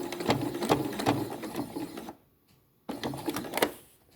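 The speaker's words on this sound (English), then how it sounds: "do the back stitch" A sewing machine back-stitches on a drawstring bag, running in a short burst of needle clatter, stopping briefly into near silence, then starting again for another quick run, close and fairly quiet.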